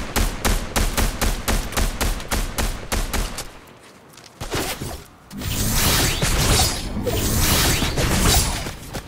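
Rapid gunfire from a Fortnite match: a dense string of sharp shots in a steady rhythm, then a brief lull and a loud, sustained roar of continuous fire and impacts to the end, no talk.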